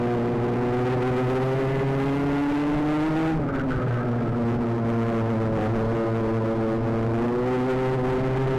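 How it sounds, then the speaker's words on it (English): Sprint karts in a club championship final at Bayford Meadows race past close by, their engines holding a loud, steady buzzing drone that dips and shifts pitch as they pass, with no talk. "Yeomans pulling clear still from Clackett."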